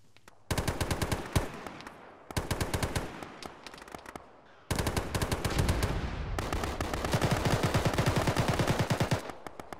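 Long bursts of rapid machine gun fire from an M240 in a military shooter game, loud and close, three sustained volleys separated by short pauses, with no voices.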